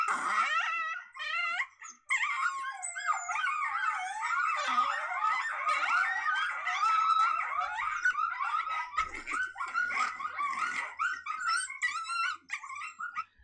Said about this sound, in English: when that other pup started screaming and growling and stuff like that